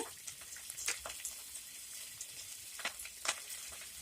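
Urad dal, cumin, curry leaves and green chillies fry in hot oil for a vendakkai poriyal: a faint, soft sizzle with scattered crackles and pops.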